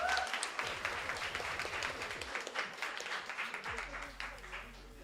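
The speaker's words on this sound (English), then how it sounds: "Can we give like a round of applause?" Audience applause at a rhythm game championship grand final in Singapore, a broad sustained wash of clapping from a crowd filling the whole clip, with some talk mixed in.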